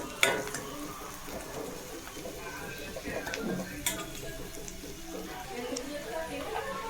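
Soup with Maggi noodles simmers and sizzles softly in a pan. A steady low frying hiss is broken by occasional clinks of a utensil against the pot.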